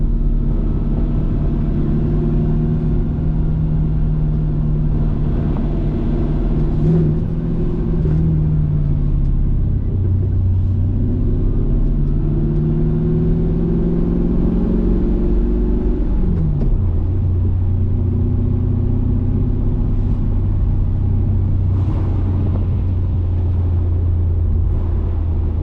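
A Mercedes C55 with its M113 V8 drives steadily, a loud continuous engine rumble with gentle rises and falls in pitch as it accelerates and eases off, no voices over it.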